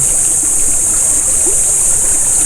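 Steady, loud rush of river water flowing continuously, close by, with no voices.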